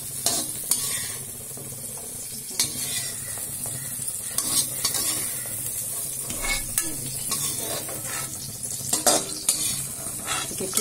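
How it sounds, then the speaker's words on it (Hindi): Paneer fries in hot oil in the same pan used earlier for peas, a constant bright sizzle over several seconds with occasional clanks and scrapes of a utensil against the pan, nearby and without speech. "अब इसमें हम इसी तेल में पनीर निकालेंगे"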